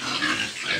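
A large mother pig gives a short, close grunt at a livestock sale, a single low rough snort under a second long.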